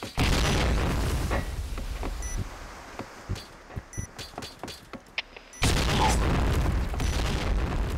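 Grenade blasts and gunfire in the online shooter Point Blank, a loud roaring explosion that fades into scattered sharp shots, then another heavy burst of blast noise, close and dense.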